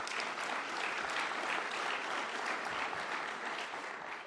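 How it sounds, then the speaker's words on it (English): Audience applause at an Empire Club of Canada address in Toronto, a dense, even wash of clapping from a large room heard at a distance, fading slightly at the end. "that's worth applause"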